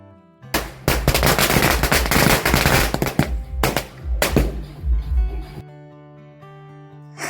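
A long string of firecrackers crackles in rapid bursts, loud and close, during Eid celebrations at a home, with a few separate bangs before the popping dies away into quiet.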